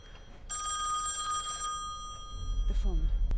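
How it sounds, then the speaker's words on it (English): An in-game telephone in Song of Horror rings loudly with a bright electronic trill for about a second, then a low rumbling drone and shuffling sounds rise while a voice speaks briefly. "The phone."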